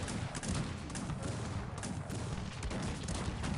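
Dense, continuous barrage of cannon and howitzer volleys in the video game Cossacks 3, overlapping booms and thuds rolling together at steady loudness with no pauses.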